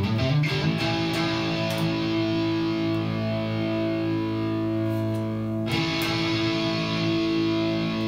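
An electric guitar with overdrive holds a sustained, saturated chord that rings steadily for several seconds, then a fresh strum restarts the distorted drone, loud and alone with no talking.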